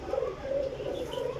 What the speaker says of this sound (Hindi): सियालकोटी कबूतर है